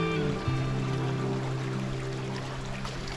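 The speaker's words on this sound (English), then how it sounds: "the sound of the stream of water" A stream of water flows steadily near a cave campsite in Vietnam, a continuous broadband rush with a low hum running underneath throughout.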